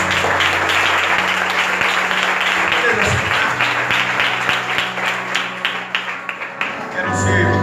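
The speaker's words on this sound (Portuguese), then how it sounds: "aplauda ao Senhor Jesus" A church youth-service congregation applauds together, dense sustained clapping that swells and carries on for several seconds, then thins out near the end as a voice returns.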